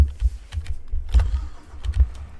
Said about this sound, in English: I'm going to grab myself a Mack semi-truck